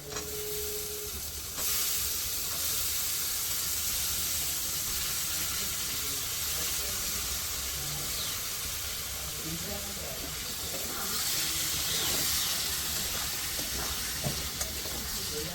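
Chopped bottle gourd drops into hot oil and spices, and a steady, close sizzle continues for the whole stretch. The hiss swells louder toward the end, with faint stirring and a soft voice now and then underneath.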